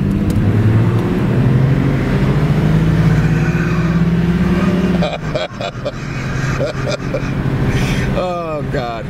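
A Chrysler Cordoba personal luxury coupe accelerates toward highway speed, its engine droning and climbing steadily in pitch for about five seconds before the tone breaks off into shorter, choppier road and cabin noises.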